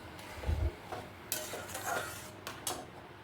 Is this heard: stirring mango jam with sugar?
yes